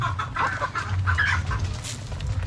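Chickens clucking close by, several birds making short repeated calls with a brief higher squawk, over a low outdoor rumble.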